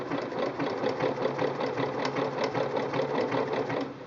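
Singer Quantum Stylist 9960 sewing machine stitching a narrow zigzag, a close continuous motor hum with fast regular needle clatter throughout.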